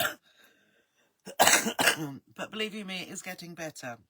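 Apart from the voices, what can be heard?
cough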